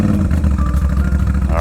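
A Moto Guzzi V7, an Italian motorcycle, runs with a steady low engine rumble throughout, loud and close, with a faint rising tone near the end.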